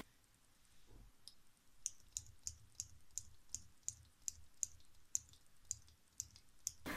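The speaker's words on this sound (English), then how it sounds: "The clicking mechanism has a pleasant audible feedback" A Uni Kuru Toga Roulette mechanical pencil's click mechanism gives a steady series of light, crisp clicks, about two per second, close and quiet against a faint background hiss.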